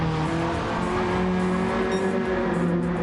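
Race cars in a racing game cornering nose to tail through S corners, engines droning steadily and loudly with shifting harmonic whines and faint tire noise throughout.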